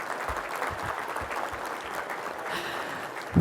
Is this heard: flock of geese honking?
no